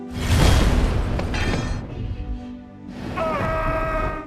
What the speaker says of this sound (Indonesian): Lalu entah dari mana, sebuah mobil menabrak para penyerang.